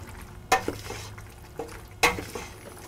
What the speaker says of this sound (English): And stir this around just to lightly coat that so that it won't stick.